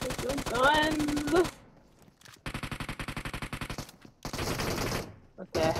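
Automatic gunfire in a video game rattles out in rapid bursts separated by short pauses, loud and close, with a voice heard briefly at the start.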